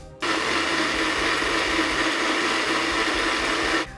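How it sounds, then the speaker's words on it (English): A blender whirs steadily for about four seconds as it purées a simmered durian and pandan mixture, a loud continuous motor drone that starts and stops abruptly with no talking over it. "we'll be putting whatever we've simmered into a blender"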